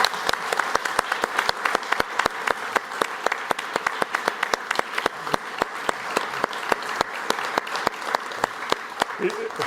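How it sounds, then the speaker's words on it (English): A sustained round of applause from the audience at a company earnings presentation, steady dense clapping throughout with sharp individual claps standing out near the listener, and voices talking underneath. "I think that deserves a round of applause to finish."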